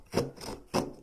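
A Stanley 12-in-1 multi tool saws through a wooden 2x4, giving two close, loud rasping strokes separated by a softer scraping drag.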